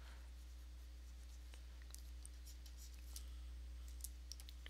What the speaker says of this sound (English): Sketch that in real quick.